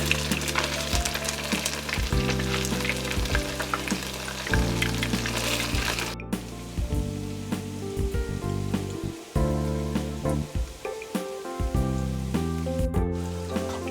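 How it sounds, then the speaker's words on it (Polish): Potato pancakes fry loudly in a pan, a dense continuous sizzle and crackle with occasional scraping and clinks of a utensil, close up. "Smażę placki ziemniaczane."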